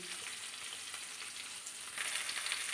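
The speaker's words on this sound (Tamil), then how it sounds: "இப்போ நம்ம வெங்காயம் போட்டு நல்லா கிளறிக்கலாம்." Onions sizzle and crackle softly in a pan while being stirred, a faint, steady frying hiss that swells slightly near the end, with no talking.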